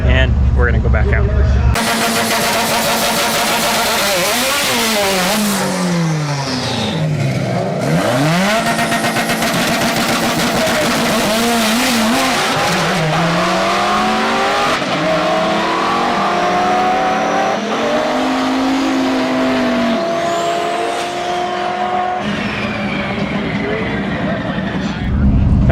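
Race car at a track during a race week event, its engine revving hard and climbing through gears in loud sustained pulls with shifting pitch, close by, while people talk briefly underneath.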